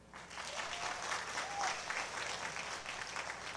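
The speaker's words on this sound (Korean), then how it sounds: "우리 드러머에게 박수를" A church congregation at a Christmas service applauds the drummer, a dense burst of clapping that holds steady for a few seconds.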